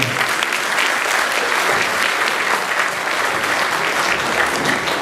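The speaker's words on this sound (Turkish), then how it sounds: "güçlü, güçlü bir alkış istiyoruz inşallah" A hall audience gives sustained, dense clapping at a Turkish gathering, loud and even throughout with no break and no voices on top.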